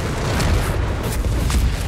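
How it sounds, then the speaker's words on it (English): Mortar barrage explosions in the real-time strategy game Company of Heroes 3, a continuous loud low rumble with sustained booming and a few sharper bursts layered on top, dense and close. "Captain Mortar Barrage onto the Pack 38 forces it to displace, but still doing damage"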